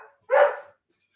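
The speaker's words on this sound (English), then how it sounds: "I don't know why she's barking." A female dog gives a single short, sharp bark, close and clear, followed by silence.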